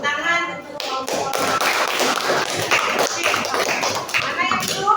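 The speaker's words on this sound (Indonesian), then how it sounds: "Tepuk tangan untuk kelompok." Students in a classroom clap for a classmate group after a breathing-mechanism lesson, close, uneven bursts of hand claps with taps and thumps, children's voices chattering over and around them.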